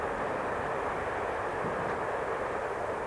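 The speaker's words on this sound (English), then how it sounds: "you can hear the train going past everything now" A train rolls past near the grounds of an old hospital, a steady, loud rumbling roar that holds evenly for the whole stretch with no breaks or voices.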